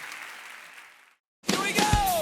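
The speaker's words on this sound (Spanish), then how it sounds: "Dale un aplauso al Señor." Church congregation clapping for the Lord during a Spanish-language sermon service; a broad wash of noise fades into a brief silence, then a louder burst of sound with tonal elements rises after the pause.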